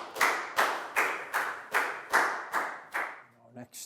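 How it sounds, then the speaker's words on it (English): A few classroom hands clap in an even rhythm, about eight sharp claps spaced roughly half a second apart, close and fairly loud, cheering a Year 4 student during a science lesson, then they stop. "a big round of applause for Prel"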